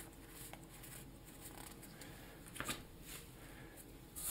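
A deck of playing cards is shuffled a couple of quick times, giving soft, close riffling patter over a steady hiss, with a louder burst near the middle and at the end, and no talk.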